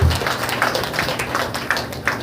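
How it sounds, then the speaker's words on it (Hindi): A church congregation claps hands in a steady, fairly quick rhythm, each clap crisp and bright and filling the hall, with a voice murmuring faintly underneath. "ताली बजा करके परमेश्वर को धन्यवाद दें।"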